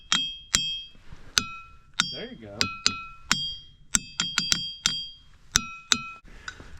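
Rocks at Ringing Rocks Park struck one after another with a hammer, each blow giving a sharp bell-like ding that rings out and decays, about fifteen strikes in an uneven rhythm, close and loud, with people talking briefly in between.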